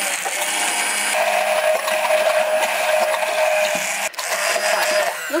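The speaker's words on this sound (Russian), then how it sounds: "И теперь все это блендером вжикаем." An electric kitchen blender whirs continuously while blending ingredients with a pinch of salt, a loud, close, steady motor drone with a brief dip near the end.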